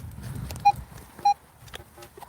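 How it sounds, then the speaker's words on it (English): A mobile phone goes off outdoors on a farm field during a metal detecting outing, giving two short, clear electronic beeps about half a second apart over faint background noise. "You're probably hearing my phone go off"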